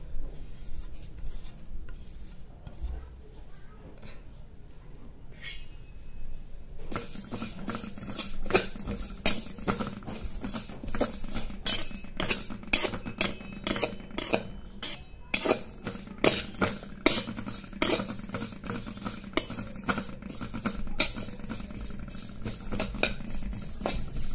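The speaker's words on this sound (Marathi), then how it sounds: "आता याच कढईमध्ये जे तीळ आहेत आपले ते घालून घ्यायचे आणि तीळ सुद्धा भाजून घ्यायचे" Sesame seeds dry roast in a kadhai while being stirred, making rapid, crisp rattling and scraping close by. Faint at first, it turns into a busy, continuous patter with sharp little clicks.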